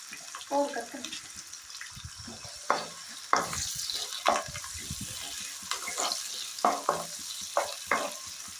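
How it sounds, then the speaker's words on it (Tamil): Small shallots fry with spices in a pan for Pallipalayam chicken, giving a soft sizzle under repeated scraping stirs and clattering taps at irregular intervals. "ஒரு 20 போல் சின்ன வெங்காயம் வெட்டி வச்சுருக்கேன், அதை கூட சேர்க்கிறேன்"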